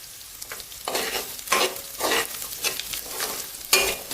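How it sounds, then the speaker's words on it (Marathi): Onions and other ingredients for Maharashtrian sanja sauté in a pan, with repeated close scraping stir strokes and a light sizzle in an uneven rhythm, no voices. "कांदा वगैरे हे सर्व साहित्य खूप चांगल्या प्रकारे परतल्या गेले"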